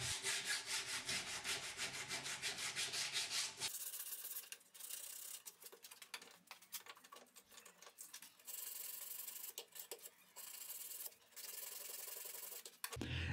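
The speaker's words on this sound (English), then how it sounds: "I will clean the file marks with 100 grit sandpaper" Wood being hand-sanded with 100 grit sandpaper to clean off file marks, a dense rubbing scrape for the first few seconds, then quieter intermittent strokes with short pauses, close and alone without talk.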